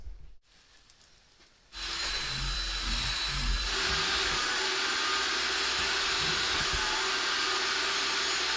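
A vacuum cleaner starts up and runs steadily over car carpets in a 2015 vehicle, a quiet rustle giving way to a loud, continuous close whir with slight rubbing shifts as the nozzle moves.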